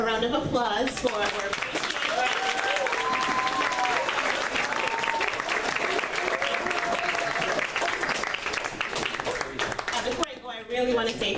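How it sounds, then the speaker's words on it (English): A school audience claps in a sustained round of applause at an end-of-year ceremony, dense and even throughout, with a voice speaking over the clapping at the start and again at the end. "Let's have a round of applause for our"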